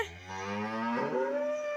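A dairy cow lets out a long, loud, drawn-out moo close by during manual milking, one continuous low call that rises in pitch toward its end, with no talk over it.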